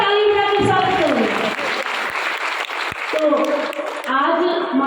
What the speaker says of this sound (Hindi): एक बार जोरदार ताली बजा के स्वागत करो।